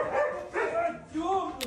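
Police dog Raid barking and yelping excitedly at a decoy during attack training, a few sharp close barks and whines tangled with a voice talking throughout.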